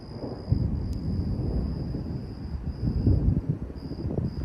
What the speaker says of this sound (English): I don't know if that was two thunder booms or an echo